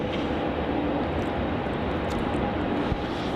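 A Rex Saab 340 turboprop takes off at Melbourne Airport, heard as a steady, loud broadband engine roar that holds evenly throughout with no talking.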